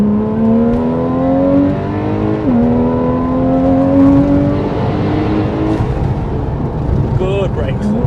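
A car engine heard from the passenger seat on an open road approaching a tunnel, loud and close, revving up through the gears with rising tones, a brief drop at a gear change, then climbing again.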